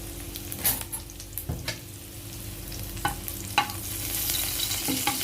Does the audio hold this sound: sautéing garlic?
yes